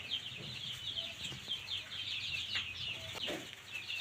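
Sick Leghorn chicks cluck and chirp steadily at a moderate distance, a continuous chatter of small calls with no voices.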